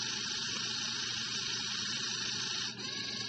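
The small motor inside a Zhu Zhu Pet toy that had stopped working buzzes in a steady, high whir with a brief dip near the end. It sounds close and continuous, with no voices.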